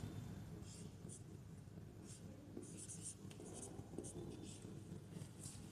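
A pen scratches out a geometry equation on paper in short, faint strokes over a steady background hum, with soft voice-like sound underneath.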